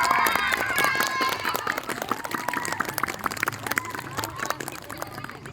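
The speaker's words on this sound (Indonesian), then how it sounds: "Tepuk tangan." Children clapping during a school ceremony for National Education Day at an elementary school, a dense patter of small hands spread through the room, with shouts and voices of children and adults mixed through it.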